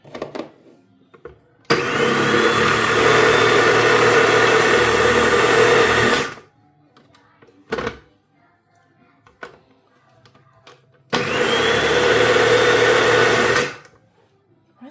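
Kenwood MultiPro Go FDP22 food processor chopping: the motor whirs loudly and steadily in two bursts of about four and two seconds, separated by quiet handling clicks and thumps.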